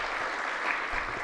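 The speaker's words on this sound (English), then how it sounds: "Clap your hands." Audience at a city council meeting claps hands in a steady, dense burst of applause that fills the whole short moment at an even level.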